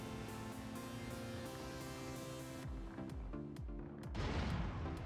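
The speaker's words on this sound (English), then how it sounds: "Here come the mortars." Mortar and artillery fire in Total War: Warhammer 3, a steady rumble of distant booms with repeated thuds building to a heavier impact near the end, no talk.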